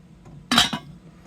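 The lid of a Salter Chalkboard 3.5L slow cooker is set down in one short, close clink with a brief rattle as it settles, alone in a quiet room.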